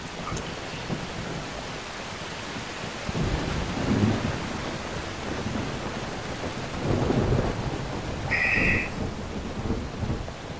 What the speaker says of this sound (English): It's gonna start raining.